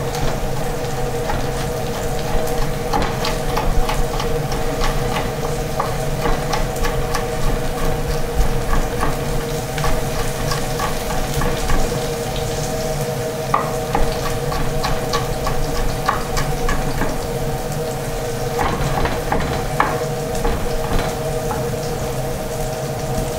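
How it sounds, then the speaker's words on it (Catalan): Red peppers sizzling with lightly browned onion in a pan, a dense steady crackle and hiss running throughout at a fairly loud, close level, with no one talking. "Posarem els pebrots, que es comencin a saltejar amb la ceba, que ja la tenim una mica dorada, i deixem que vagi saltejant tot junt."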